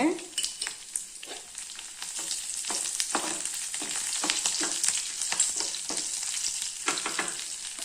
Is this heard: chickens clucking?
no